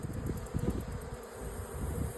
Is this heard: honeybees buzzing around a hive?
yes